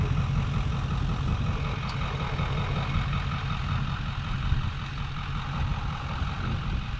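A large truck engine idles in a low, steady rumble, continuous and fairly close, with no other distinct sounds.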